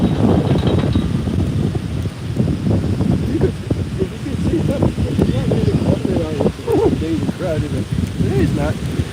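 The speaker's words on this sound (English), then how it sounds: "it's nice and windy" Steady wind buffeting the microphone with a constant rushing roar, while people talk over it.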